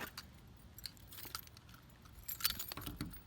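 A metal key jangles and scrapes as it works the lock that lowers the back window of a 1979 Ford Bronco, with close, soft rattling bursts and a sharper clink near the end.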